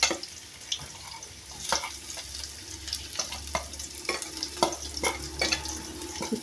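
Shallots and onions sauté in oil with a continuous sizzle, punctuated by repeated scraping strokes of a spatula against the pan, close and moderately loud.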